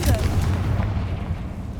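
In the video game Hogwarts Legacy, a Confringo fire spell explodes with a deep, rumbling boom that fades over about two seconds, with a voice speaking over it.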